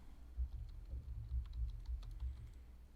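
Quiet, irregular tapping of keys on a computer keyboard while typing in a classroom lab setting, soft clicks in short bursts with no talking.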